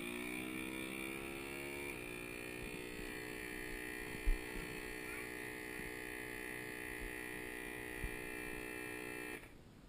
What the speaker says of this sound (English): you can see, it's doing the vacuum